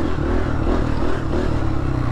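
Honda CRF150F dirt bike ridden on a road, its engine a loud, close, rattly drone held at steady revs with slight pulsing throughout.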